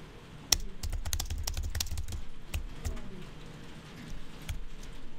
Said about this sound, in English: I hit the carriage return key on the keyboard and I type another